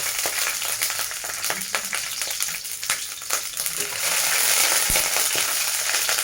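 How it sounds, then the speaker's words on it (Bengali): Oil spattering and hissing steadily as vegetables fry in a pan for a Bengali vegetable dish, with scattered pops and scraping stir sounds, close and loud throughout. "একটু তেল ছিটকাচ্ছে।"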